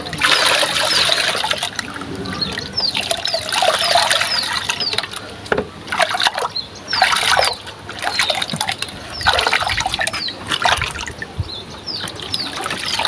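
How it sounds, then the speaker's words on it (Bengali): Rice starch water is stirred and poured for pigeons, giving bursts of trickling and splashing liquid close up, with bird chirps scattered behind. "তো আমরা ভাতের মার পানিতে আগে মিশাই নেই"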